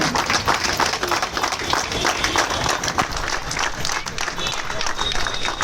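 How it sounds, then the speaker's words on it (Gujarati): Sustained applause from a crowd fills an opening ceremony for a volleyball tournament in Rustampura, Surat, a dense, steady rattle of many hands clapping together with no break throughout. "તાળીઓમાં કચાશ નહીં આવવી જોઈએ."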